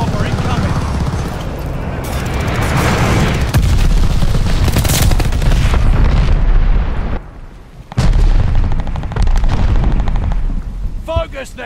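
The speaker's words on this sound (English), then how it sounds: "Teammate called a bombing run. Heads up. Friendly glide bomber incoming." Loud, dense barrage of glide bomber bombing-run explosions and booming blasts in the Call of Duty: Vanguard video game, sustained for most of the clip with a brief lull near the end before the rumbling resumes.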